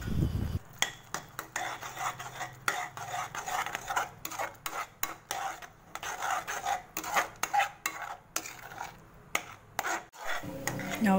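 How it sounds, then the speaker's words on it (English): A utensil stirs thickening paneer butter masala gravy in a pan, making close, repeated scraping and rubbing strokes in an uneven rhythm, with no talk. "Keep stirring until we get thick consistency."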